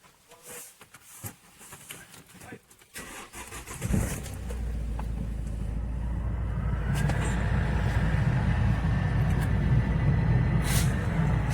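A Vauxhall Zafira with a no-start fault cranks and fires up after a few faint clicks, settling into a steady, growing engine idle close by.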